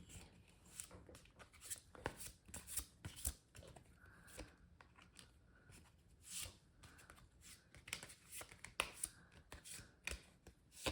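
Tarot advice cards are handled in close, quiet bursts of flicking and riffling, with sharp papery slaps that come at an uneven rhythm and faint pauses between them.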